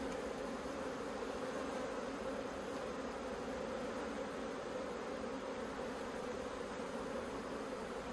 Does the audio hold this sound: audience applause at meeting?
no